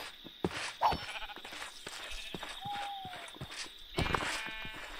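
Sheep bleat in the video game Minecraft, one short bleat amid game sounds of footsteps and clicks, with a steady background hum and a voice talking over parts of it.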